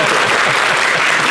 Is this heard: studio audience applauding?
yes